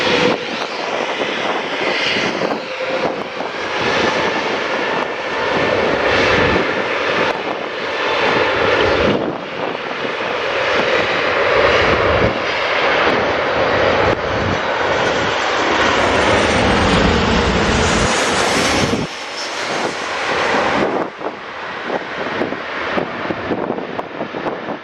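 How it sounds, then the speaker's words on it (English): Emirates A380 taking off from LAX, a loud sustained jet engine roar that swells and shifts in pitch as the aircraft climbs away, heard alone with some wind buffeting on the microphone. "Watch this gorgeous Emirates A380 lift off from LAX into a stunning"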